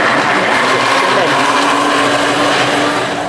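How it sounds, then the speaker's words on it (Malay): A blender whirs loudly and continuously for a few seconds, blending ingredients for a chicken tomato cashew dish, its motor droning at a steady pitch. "Okey, kita nak blend sekali ni sekarang."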